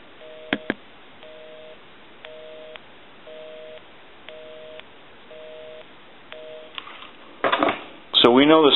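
A busy signal on a UK rotary desk telephone: a two-tone beep pulsing on and off in a steady, even rhythm, followed by a burst of clattering noise at the end.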